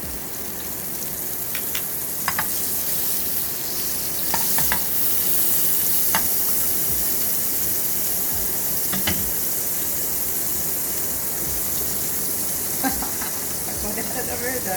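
Butter sizzles in a frying pan alongside a rösti potato, a continuous close hiss and crackle with small pops scattered through it, and faint background talk now and then.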